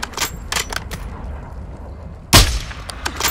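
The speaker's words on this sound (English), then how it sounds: "Precision airstrike inbound." Precision airstrike blasts land in a Call of Duty Warzone match, one sharp heavy explosion standing out over earlier scattered popping gunfire, loud and close with no talk.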